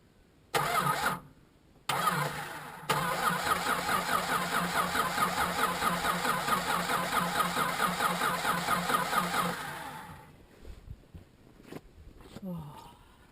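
A VJ Valiant engine cranks after 25 years, with two brief bursts of starter whirring, then a longer steady cranking run of about seven seconds that fades into scattered clunks and small noises near the end.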